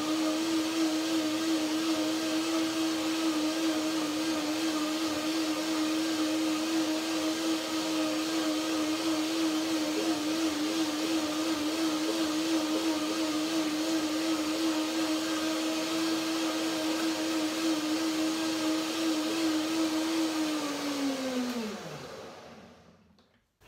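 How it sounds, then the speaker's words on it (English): A blender runs loud and steady with a constant motor whine while blending cashew cream, then winds down and stops near the end; no talking. "One more blender dance."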